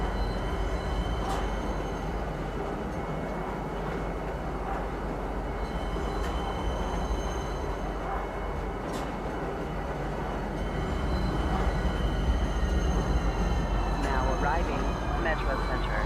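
Metro train running on rails, a continuous rumble of wheels with faint squeals and clicks, building a little louder near the end while a voice speaks over the ride.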